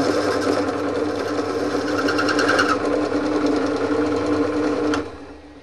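A spinning part for a homemade airsoft Steyr AUG M8 kit whirs steadily as it is deburred with an edge, a continuous close mechanical buzz that stops abruptly near the end.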